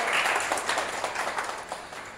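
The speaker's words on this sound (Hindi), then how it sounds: "इनके लिए जरा जोरदार तालियां बजा दें।" Applause from an audience at a talk, a dense wash of many hands clapping at moderate volume with no voices over it.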